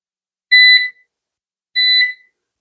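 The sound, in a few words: kitchen appliance timer alarm beeping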